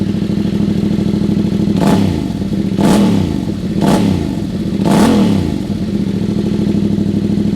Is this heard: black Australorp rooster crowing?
no